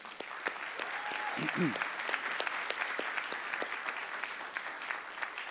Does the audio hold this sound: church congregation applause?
yes